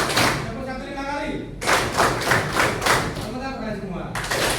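Students in a high school classroom clap a rhythmic group pattern, a run of roughly five sharp, evenly spaced claps, with a voice speaking before it.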